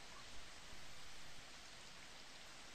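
Thunderstorm rain falls as a soft, even hiss, faint and continuous, with no thunder and no voices.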